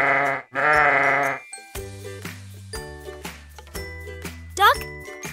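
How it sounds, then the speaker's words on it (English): A sheep bleats loudly twice in quick wavering calls close up, followed by light jingling music with tinkling notes. "Sheep."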